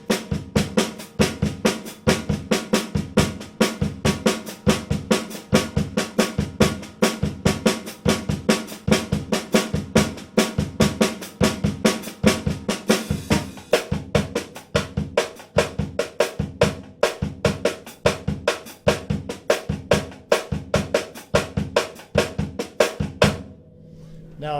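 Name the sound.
samba pattern played on snare drum, right hand accents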